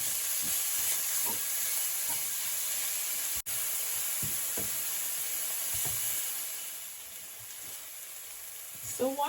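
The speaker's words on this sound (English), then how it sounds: "I'm going to now just allow my onions to saute into the butter here." Chopped onions sauté in melted butter in a pan with a steady, bright sizzle and hiss throughout, broken by occasional soft stirring clicks and a sharp tap midway.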